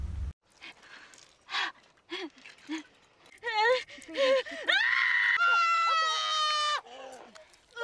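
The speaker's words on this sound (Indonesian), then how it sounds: "Stacy berteriak kesakitan." A woman screams in pain as a plant growing inside her body is cut out with a knife, in the 2008 horror film The Ruins. Short gasps and cries build into long, strained, high-pitched screams, and a voice talks in the background.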